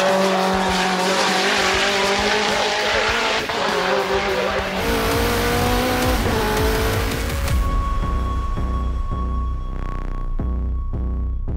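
A time attack race car on track during its first shakedown at World Time Attack roars loudly, with revving, gear changes and squealing tyres, then gives a sustained high engine drone as it pulls away.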